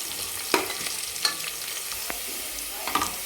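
Chopped onion frying in a pan for a Maharashtrian masale bhaat and kadhi dinner, a low steady sizzle with a few sharp stirring scrapes and clinks, alone with no talking.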